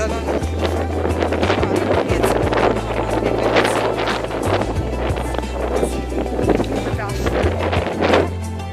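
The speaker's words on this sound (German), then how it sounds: "Hier oben ist es recht windig" Gusty wind buffeting the microphone on a mountain top on the Rigi in Switzerland, a loud, steady low rumble with rushing bursts throughout, while someone talks underneath.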